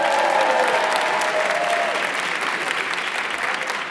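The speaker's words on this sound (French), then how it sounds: "que vous pouvez applaudir" Sustained applause from an audience at a school graduation ceremony honoring teachers, a dense, even wash of many hands clapping close by that stays steady throughout.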